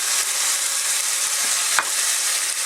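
Beef, chorizo and tomato stew cooks in a pan with a dense, steady sizzle and hiss, close and loud, broken by one brief knock near the end, with no voices.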